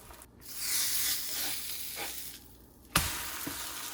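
Batter sizzles and fries in a hot pan, a steady crackling hiss that swells and fades, with a couple of sharp clinks of a utensil against the pan near the end and no speech.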